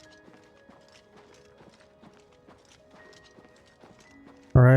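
Quiet, steady hoofbeats of a galloping horse in The Elder Scrolls IV: Oblivion Remastered clip-clop in a rapid rhythm, with a sudden loud burst cutting in at the very end.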